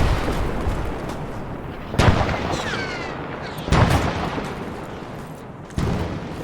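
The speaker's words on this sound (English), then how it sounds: "We got mortars coming to get inside." Mortar fire in Arma 3 military simulation: three heavy, separate impacts about two seconds apart, each a sharp loud boom with a rumbling tail over steady background noise.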